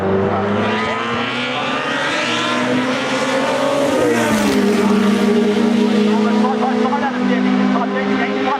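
Historic sports racing cars, a Lola and a Chevron B16, thunder past close by at Oulton Park, engines roaring loudly with rising and falling pitch as they pull away, a commentator talking over them throughout.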